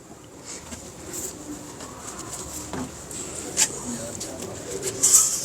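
Pet pigeons coo softly at close range, a few low murmuring calls rising from a steady background hum, with a couple of brighter chirps near the end.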